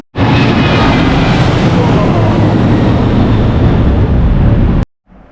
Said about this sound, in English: I will try and get a shot of a plane going right over the hotel